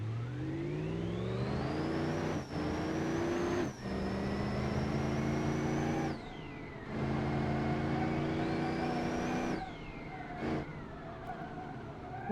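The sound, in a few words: V8 turbo car engine in a driving video game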